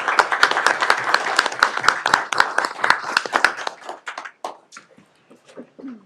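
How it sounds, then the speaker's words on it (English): A small group at a school board meeting claps for the superintendent, a sharp, close round of hand claps that thins into scattered last claps and fades out. "let's give our superintendent a round of applause"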